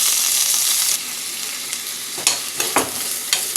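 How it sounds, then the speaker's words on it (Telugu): Long-sliced onions and green chillies tossed into hot oil for a curry, a bright loud sizzle at first that settles, then several quick spatula scrapes and clinks near the end, close up with no talk. "ఆయిల్ వేడైంది వీటిలో ఉల్లిపాయ ముక్కలు పొడవుగా కట్ చేసి పచ్చిమిరపకాయలు వేసుకుందాం"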